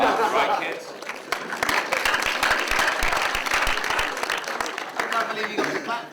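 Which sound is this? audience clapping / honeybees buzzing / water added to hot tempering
audience clapping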